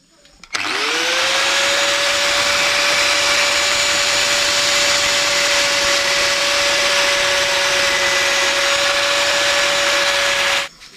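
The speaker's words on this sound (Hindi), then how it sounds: "इस हैंडल बार को हम लोग को ना एक जगह से कट करना पड़ेगा" A handheld power tool cuts through a steel FZ motorcycle handlebar while a Honda Dio scooter is being modified. One loud, steady, high whine runs for about ten seconds and then stops abruptly, with no voices.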